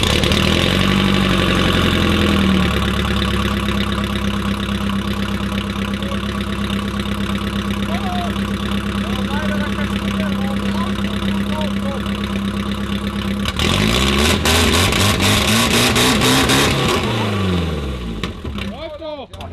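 A car engine idles steadily with a leaky exhaust, a continuous loud low rumble with a rougher, more irregular stretch near the end; people talk over it.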